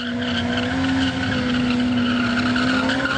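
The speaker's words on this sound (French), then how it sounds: "Les burns, pour ceux qui ne connaissent pas, c'est ça." A motorcycle does a burnout on a trailer-mounted burn machine, giving a loud sustained tire squeal with a steady high engine tone and constant roar throughout, with no talk.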